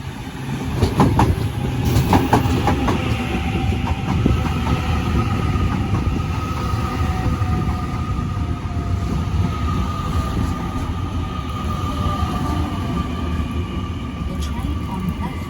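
Train D140 bound for Lithgow rumbles through Strathfield station in Sydney. The loud rolling of wheels and clatter at the rail joints goes on steadily, with a faint voice talking underneath.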